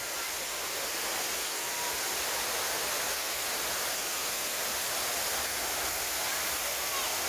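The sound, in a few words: water splashing at Friendship Fountain, Jacksonville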